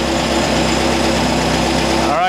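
Air-cooled VW engine with a Solex H30/31 PICT carburetor idling steadily and close up, a continuous even drone with a faint talking voice near the end.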